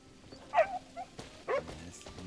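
Puppies in the video game Crimson Desert give two sharp, high yips with soft whimpering and breathy panting between them, close and fairly quiet against low background ambience.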